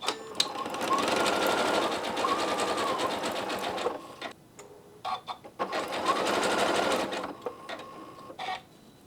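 A sewing machine stitches a quilt-as-you-go alphanumeric pattern in two long rapid runs of needle strokes, each pausing briefly in between with small clicks and handling noises.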